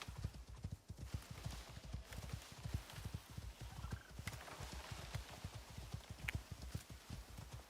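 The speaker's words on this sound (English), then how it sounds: "But luckily the horses are pretty good at getting down those cliffs." A horse's hooves clip-clop at a steady trotting rhythm on the ground in the survival game Icarus, close and continuous, with a brief faint whinny partway through and no talk.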